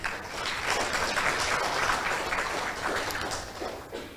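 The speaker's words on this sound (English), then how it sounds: "please give Eskola Secundária Imaculada Coração de Maria and Escola Secundária Geral Colégio São Miguel Arcanjo a big round of applause" Audience applause fills the hall at a school debate between two secondary schools, steady dense clapping held at an even level throughout, fading slightly at the end.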